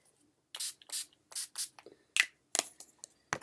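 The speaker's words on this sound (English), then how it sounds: "I'm just going to spray, of course, with my NYX primer spray." A quick series of short, hissing spray bursts from a pump mist bottle of NYX primer setting spray, about eight spritzes in irregular rhythm, close by with quiet gaps between.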